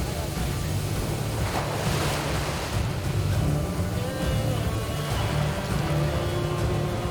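Rough, heavy ocean surf off the coast of Kovalam, India, roaring steadily and close throughout, with broadband wash and wind noise swelling and receding over a continuous low rumble.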